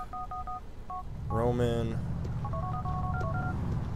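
Mobile phone keypad tones in the video game Grand Theft Auto IV: short beeping dial tones sound in quick clusters before and after a brief spoken line, over the steady hum of a car engine.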